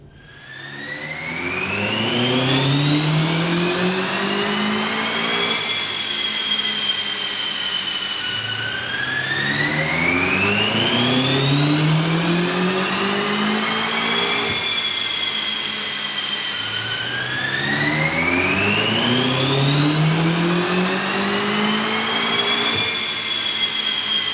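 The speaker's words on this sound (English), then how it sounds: "We've run the BMW up on the dyno." A BMW car engine revs hard on a dyno in three long, rising sweeps, each climbing steadily in pitch to a high whine before dropping sharply and building again, loud and continuous with no talking.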